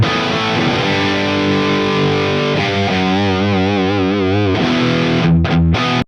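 Heavily distorted electric guitar plays through channel 2 of an amp into a V30 cabinet, with sustained chords and a wavering held note, loud and continuous until a sudden cutoff, no speech.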